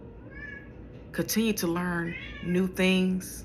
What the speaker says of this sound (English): Please excuse my cat in the back. She loves to talk when I talk.